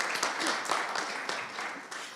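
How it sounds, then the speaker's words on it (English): Short burst of audience applause at a panel discussion reception, moderately loud and steady, a dense patter of clapping lasting about two seconds. "we'll clap for you first, Kate."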